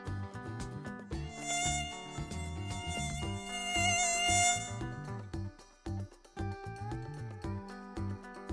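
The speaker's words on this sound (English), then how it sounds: "It's a mosquito." A mosquito whines with a thin, high, wavering buzz that rises and falls over several seconds, set against a busy tonal background that carries on after the buzzing fades, no one speaking.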